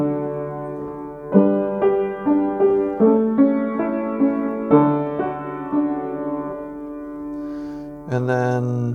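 Solo piano plays a 1-4-5-1 chord progression as historic-style improvisation, with several struck chords ringing and decaying in a steady pulse, close and clear, ending on a brighter final chord.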